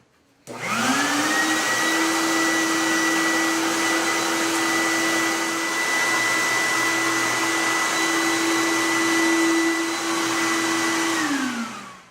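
A vacuum cleaner runs steadily for about eleven seconds while cleaning the fins of a baseboard heater's fin tube, starting abruptly and winding down at the end, with a loud, even whine and no talking.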